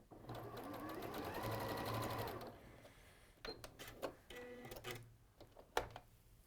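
A domestic sewing machine stitches over fabric seams in a steady whirring run, then stops and restarts in short bursts with clicks and handling noises, close up.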